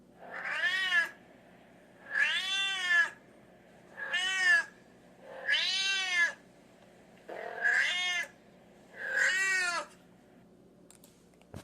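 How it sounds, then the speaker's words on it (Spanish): Six drawn-out kitten meows in a steady series, each about a second long with short pauses between, clear and close with nothing else around them. "a los gatitos maullando"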